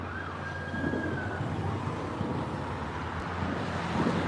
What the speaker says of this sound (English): I hear a police car with sirens on.